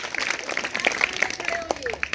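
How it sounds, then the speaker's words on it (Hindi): Clapping from a school gathering welcoming a girl serving as district magistrate for a day, dense and steady for about two seconds, with voices mixed in. "जोरदार तालियां"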